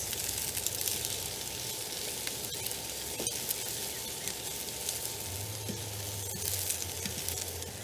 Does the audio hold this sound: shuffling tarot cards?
no